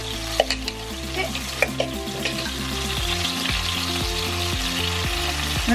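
A spice base for grilled rice sizzles loudly in a pan while a utensil stirs it, with a few sharp scrapes early on over a constant close frying hiss; music plays underneath and nobody speaks.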